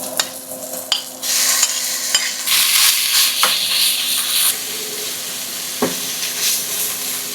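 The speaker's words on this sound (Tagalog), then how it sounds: "Tapos lagyan natin yung ground pork." Ground pork hits a hot pan with garlic and onion and sizzles loudly and steadily, while a spatula stirs and scrapes with several sharp clacks. The sound is close, with no talking.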